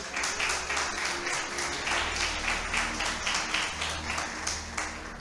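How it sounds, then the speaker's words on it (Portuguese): Church congregation clapping together during a worship service, a steady rhythmic beat of many hands over a low sustained hum, likely music, lasting throughout. "Aplauda o nome do Senhor Jesus."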